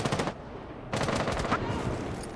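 Rapid automatic gunfire bursts from Rainbow Six Siege on the Consulate map, two loud volleys of shots separated by a brief lull, with no talk in between.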